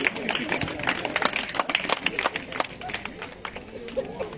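Audience applause at a worship concert, dense and steady clapping spread across the hall, moderately loud and continuous throughout without letting up.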